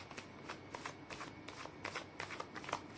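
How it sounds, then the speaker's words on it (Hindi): Tarot cards are shuffled by hand in quick, soft riffling bursts, about a dozen brushing swishes in a steady rhythm, close and fairly quiet. "मैं कर लेती हूँ कार्ड की शफलिंग।"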